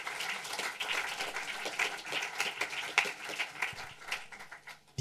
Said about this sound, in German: Großer Applaus erstmal nochmal dafür.